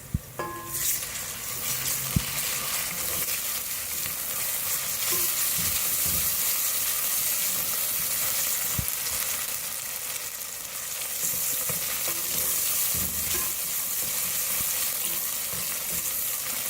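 Onion, ginger and garlic fry in a pan for mash daal, a steady close sizzle running throughout with occasional clicks and stirring scrapes.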